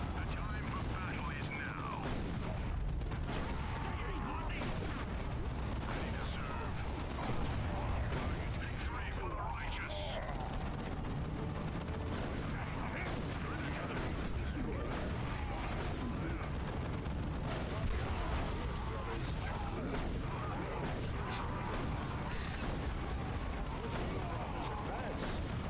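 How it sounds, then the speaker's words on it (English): An autocannon firing in the video game Dawn of War 2, repeated heavy bursts inside a dense, continuous battle din, with a voice talking over it. "God, the autocannon is just too good."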